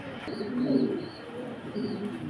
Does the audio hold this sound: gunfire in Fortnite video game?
no